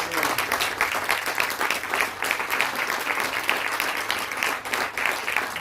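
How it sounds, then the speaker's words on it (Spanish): A church congregation applauds during a sermon, a steady, dense wash of many hands clapping at close range that holds for several seconds without pause. "¿Cuántos le dan un aplauso?"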